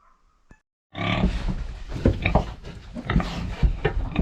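Loud, dense animal vocalizing close by on a farm, continuous grunting and squealing of a young sow with short sharp peaks, after a brief quiet start.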